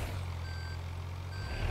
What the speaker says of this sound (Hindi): यार, ये बीप साउंड बहुत ओपी है यार।